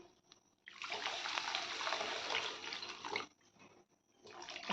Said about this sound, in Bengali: একটু নাড়াচাড়া করে জল ঢেলে দেবে